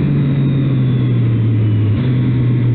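Triumph Street Triple 765 R 2023 motorcycle riding on a very wet road, its engine a steady loud low drone with a constant hum and broadband road and wind noise throughout, no talking.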